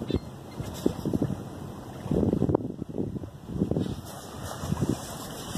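A sailboat under sail, with no engine, leaving Guaymas on the Sea of Cortez: wind buffets the microphone and water rushes against the hull in uneven surges, with a voice talking over it now and then.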